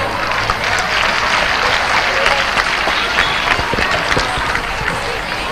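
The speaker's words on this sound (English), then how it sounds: "I request the parents to cheer them up with a big clap." Loud, sustained applause from parents at a school annual day celebration, dense clapping filling the whole stretch without pause.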